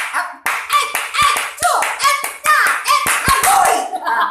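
A group claps hands in a lively rhythmic pattern at a sing-along gathering, sharp close claps in bursts with short pauses, and voices chattering faintly underneath.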